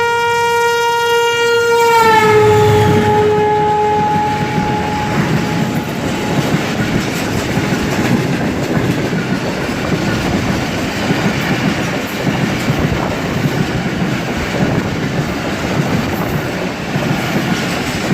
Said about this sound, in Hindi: क्या कमाल का क्रॉस किया है हमें 43F शाह हुसैन एक्सप्रेस ने, कि जिसके विसल्स हमें काफ़ी देर तक सुनाई देते रहे